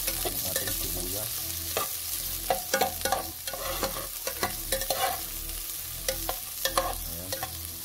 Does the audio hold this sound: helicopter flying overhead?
no